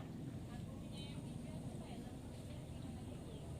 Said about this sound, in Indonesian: Mesin kompresor aktif bekerja.